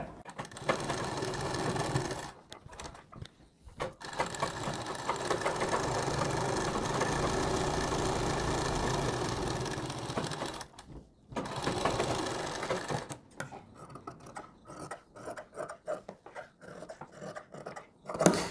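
A sewing machine stitches around the round collar of a kurti, running in long steady whirring stretches broken by short pauses, then giving way to choppier intermittent bursts near the end.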